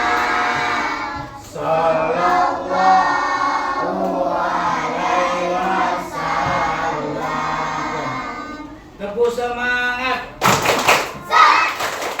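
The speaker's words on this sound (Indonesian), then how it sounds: "Tepuk semangat." A group, including children, doing a rhythmic spirit clap, with patterned bursts of hand claps and thuds mixed with loud chanting voices, ending in sharper, louder clapping.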